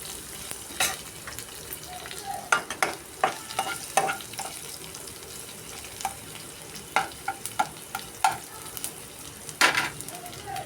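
Garlic frying in oil for an okra and cashew fry sizzles steadily under repeated spatula scrapes and light clinks against the pan, close by, with no clear talk.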